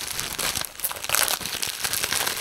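Plastic packets crinkle and rustle continuously, close up, with sharp crackling bursts and no talking.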